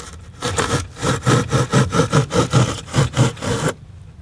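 A hand saw cuts through foam insulation in rapid back-and-forth strokes, about a dozen rhythmic rasping pulses up close that stop abruptly.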